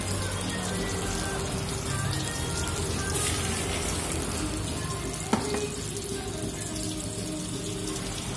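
Mie gomak noodles being stir-fried with garlic, shallots and ground chili, a dense continuous sizzle with scraping and a sharp clank partway through.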